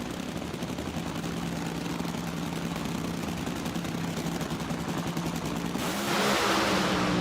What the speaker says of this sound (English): Dan Wilkerson smokes the tires. Beckman's on and off the throttle